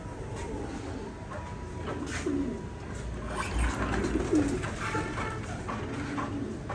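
Pigeons coo softly in a ventilated loft in Chittagong, with low murmuring calls under a steady hum of background noise and no talking.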